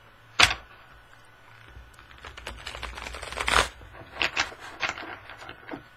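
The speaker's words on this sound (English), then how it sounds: "Took some strength, but I did get a fair riffle shuffle out of it." Deck of tarot cards being riffle shuffled, a sharp snap at the start followed by a quick fluttering burst of cards and a few softer flicks as they settle, close and fairly quiet.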